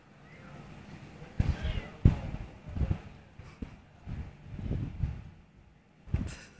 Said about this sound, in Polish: A w tą dziurkę się koty schowały, jak padał deszcz.